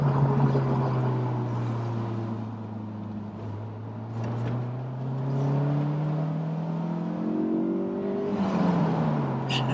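A Honda S2000 GT roadster's engine revs while driving, its steady drone climbing and sliding in pitch as the car pulls through the gears, loud and continuous for the whole stretch.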